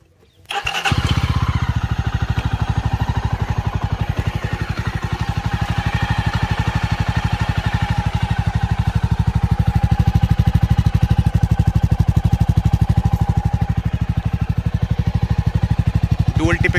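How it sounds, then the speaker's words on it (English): A 2020 Jawa Classic BS6 motorcycle with chrome dual-tip exhaust starts on the self-starter after a brief pause, then settles into a steady, even idle thump that holds close and loud to the end. "Now let's listen to the engine note."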